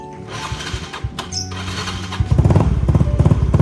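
A Yamaha Mio scooter being cranked but failing to start, with brief starter whirs and sputters at first, then a louder rhythmic mechanical chugging at close range in the second half.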